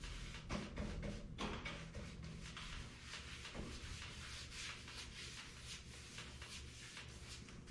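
Bristle brush rasping steadily as varnish is worked onto the wooden bed boards of a 1956 NAPCO GMC Model 100 pickup, a close, continuous scratchy stroking with repeated brush passes and no talk.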